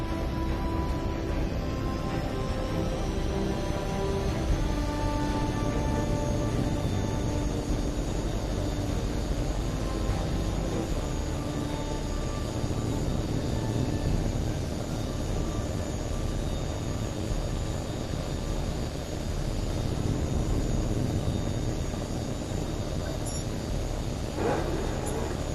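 A jet fighter in the flight game Tom Clancy's H.A.W.X. 2 rolls for takeoff, its engine a steady, loud, unbroken roar that holds for the whole stretch, with a brief hiss toward the end and no voices.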